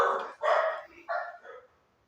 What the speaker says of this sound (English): Dogs acting out again.